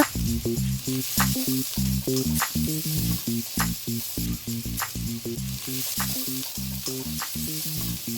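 Onions frying in oil in a pan for mushroom curry, a steady close sizzle with bursts of crackle and rhythmic scraping of a stirring utensil throughout, no voices.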